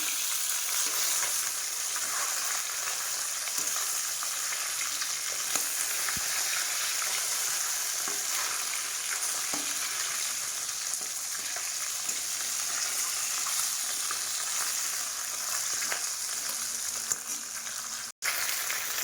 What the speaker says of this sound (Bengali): মাছগুলো ভাজা হয়ে গেছে বন্ধুরা, দেখো।